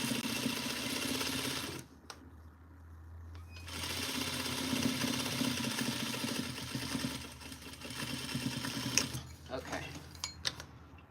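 A sewing machine top stitches a Simplicity 8059 duster in two long, loud, steady runs split by a short pause, with a brief spoken word in between.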